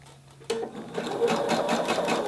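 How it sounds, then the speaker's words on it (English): A sewing machine stitches a sleeve seam close to the edge over fold-over elastic. It starts after a brief quiet moment and then runs as a steady, rapid, close-up mechanical whir with no talking. "I'm just going to stitch right at the edge of this seam"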